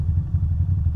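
A motorcycle engine idles close by on a town main street, a steady low rumble with a slightly uneven, chugging pulse throughout.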